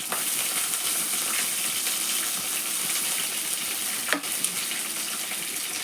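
Onions, green chillies and coriander frying in a pan for chicken bagara, giving a steady, close sizzle throughout with one sharp clink near the end and no talk.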